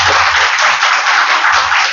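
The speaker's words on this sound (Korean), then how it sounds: "박수 한번." Congregation applauding together during a Sunday morning children's-day church worship service, a dense, steady wash of many hands clapping that carries loud and unbroken from start to finish.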